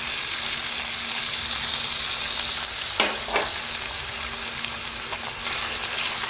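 Chicken pieces sizzle steadily in hot oil with softened onions for an Indian-style chicken spaghetti, close and continuous, with a couple of brief stirring scrapes partway through.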